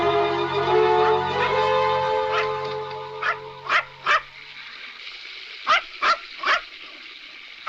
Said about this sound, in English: Do you hear a dog barking?